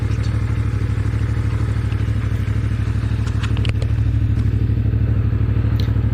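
A 2025 CF MOTO 450 MT motorcycle fitted with a low seat, engine droning loud and steady while riding, with a few clattering knocks over the constant rumble.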